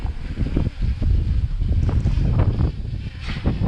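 Strong wind buffets a DJI Mini 3 drone in flight, a loud, continuous low rumble with gusting surges throughout.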